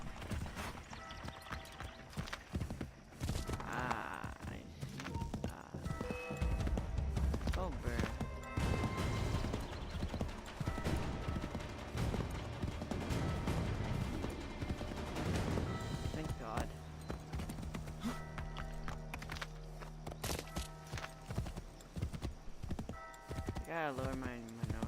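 Horse hooves clip-clop steadily and loudly through Assassin's Creed III Remastered gameplay, with a brief whinny, crashing impacts and a voice talking over the hoofbeats.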